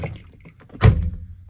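A single solid mechanical thunk of a Vauxhall Cavalier SRi's door popper releasing the door, with a brief low rumble trailing after it in a quiet space.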